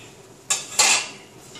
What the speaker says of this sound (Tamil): இதை மூடி வைக்கிறேன்